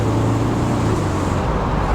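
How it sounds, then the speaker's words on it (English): A Pontiac Trans Am Turbo 20th Anniversary Edition from the 1980s is under way, its engine and turbo giving a steady, loud low drone with road noise heard from inside the car. "Man, the turbo is so good. The turbo sounds so funny."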